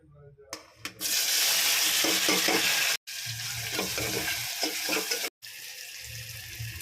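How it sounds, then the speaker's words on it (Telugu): Onions, tomatoes and ginger-garlic paste frying in hot oil with tamarind for a Telugu dried-fish curry, a loud continuous sizzle with stirring scrapes, broken by two brief pauses. "ఉల్లిపాయలు, టమాటీలు, అల్లం వెల్లుల్లి పేస్ట్ బాగా వేగుతుందండి"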